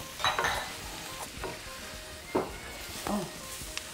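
A gumbo roux sizzles in a pot while being stirred, with soft crackling frying noise broken by a few sharp scrapes and clinks of a utensil against the pot over a steady hiss.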